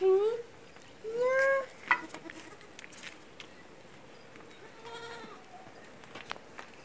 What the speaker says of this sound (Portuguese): Aqui é um pouco as cabras.